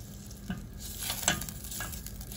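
Faint, steady sizzle of butter melting in a pot, with a soft stir or clink now and then and a constant background hiss.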